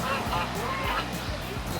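A flock of geese at a park pond kept with swans and other birds, honking in a busy overlapping chorus, close and fairly loud, with a voice talking alongside.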